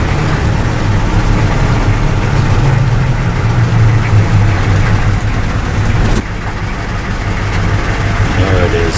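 A GM 6.2 diesel engine fitted with a custom exhaust rumbles loudly and steadily at idle nearby, its deep drone continuing without pause and dropping slightly in level near the end.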